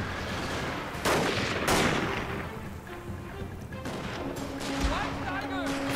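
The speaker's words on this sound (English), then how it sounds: "Alright, open fire!" Infantry volley fire in Total War: Fall of the Samurai, a battle of European-style line warfare, with sharp bursts of gunfire cracking over a continuous din of battle noise and distant shouting.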